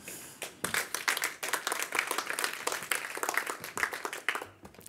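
An audience at a business dialogue event in St. Pölten, Lower Austria, applauds steadily throughout, a dense patter of clapping at a quiet, somewhat distant level. No one speaks over it.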